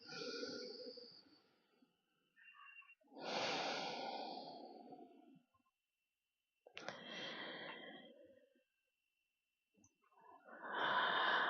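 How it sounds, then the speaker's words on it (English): Slow, deep breaths during a bedtime yoga stretch, four long audible inhales and exhales separated by quiet pauses, close and soft. "Taking a few rounds of breath here."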